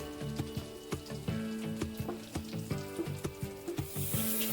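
Dry spices sizzling in hot oil in a pan over a low gas flame while making Bengali-style chicken kasha, with a steady close frying hiss and a string of regular clinks and taps from a utensil against the pan.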